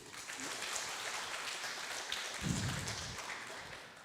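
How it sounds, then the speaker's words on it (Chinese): Audience clapping at a school graduation ceremony, a faint, steady wash of applause that swells briefly near the middle and continues to the end. "我们也再一次的用掌声来感谢你们"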